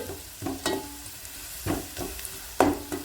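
Pirandai (adder's creeper) stems sautéing in a pan, with a few distinct scraping stirs against a soft, steady low sizzle, spaced irregularly and fairly close.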